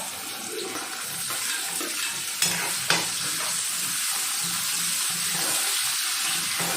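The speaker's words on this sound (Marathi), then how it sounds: "कांदा एक मिनिट असं जरा तेलात परतून घ्यायचा आहे" Onion sautéing in oil with mustard seeds and cumin gives a steady, close sizzle with stirring scrapes throughout, and a couple of sharp utensil knocks partway through.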